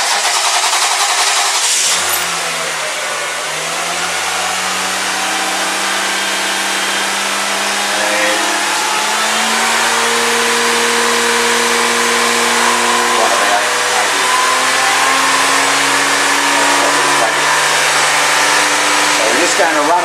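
An engine cranks and catches, then idles with a steady hum whose pitch slowly rises and settles, running continuously for the whole stretch.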